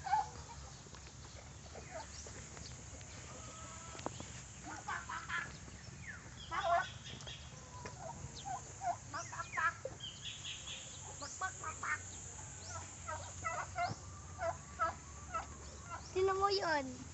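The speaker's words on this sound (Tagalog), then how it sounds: "Mga manok." Chickens cluck and call in the livestock area of a farm in Tagaytay City, with repeated short, fairly near calls scattered over a steady low background hum and occasional faint voices.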